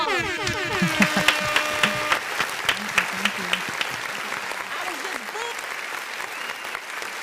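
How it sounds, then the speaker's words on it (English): Applause for guests in a podcast studio, a small group clapping with sharp, irregular claps up close, opening over a brief musical jingle, with voices talking through it. "Let's give a round of applause."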